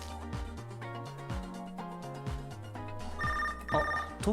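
A phone rings in the video game Tokyo Mirage Sessions #FE Encore, a melodic electronic ringtone playing a repeating tune, clear and fairly loud with no speech over it.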